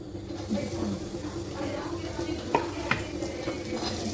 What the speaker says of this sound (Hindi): प्याज डाल दिया मैंने, पतला पतला लच्छे जैसा काटा है